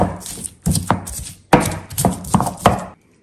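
Garlic clove and a small piece of onion worked in a stone molcajete, a run of rough grinding and pounding strokes in two bursts, close and fairly loud, with no talk over it.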